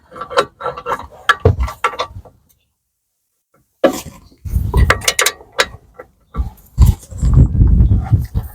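A ratchet tightens a bolt on a BMW E92 3 Series front wheel bearing, giving loud bursts of clicking and clattering metal, then a pause of near silence before more rapid ratcheting resumes.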